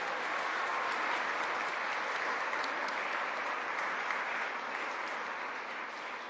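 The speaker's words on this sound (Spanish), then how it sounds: "Un aplauso, San José Obrero." Steady, dense applause from a church congregation at San José Obrero parish during a Eucharist gathering, sustained and fairly loud for the whole stretch without a break.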